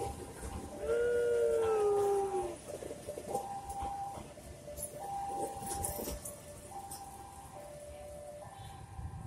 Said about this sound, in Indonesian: akeh sing padha ndelok sepur lewat